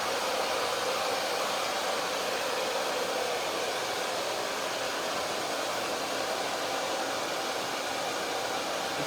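Hair dryer fitted with a diffuser cup, set to high pressure and medium heat while drying curly long-layered hair, giving a loud, steady, unbroken blowing roar with no talking.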